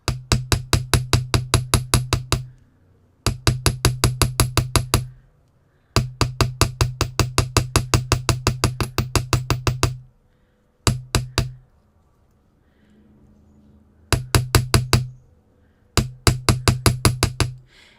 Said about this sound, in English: now I'm going to turn it to the small side and hammer along to make a little bit more texture